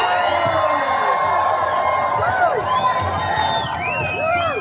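Rally crowd at a Hands Off protest cheering and whooping loudly, a dense roar with rising shouts and whistles throughout, overlapping voices mixed in.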